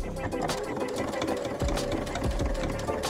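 A sewing machine runs steadily and continuously as it top stitches the edge of a denim jeans pocket. The rapid mechanical whirring and thumping stay close and loud throughout, with no pauses.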